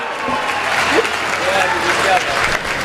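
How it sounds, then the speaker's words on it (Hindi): Loud, dense audience applause at a Hindi poetry gathering and mushaira, continuous throughout with voices calling out over the clapping. "एक बार जोरदार तालियां बजाएं आप लोग।"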